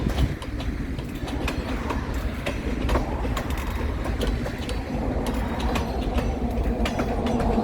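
An empty freight train rolls steadily past at close range, a loud continuous rumble of wheels and cars with repeated clicking from the rail joints and no voices.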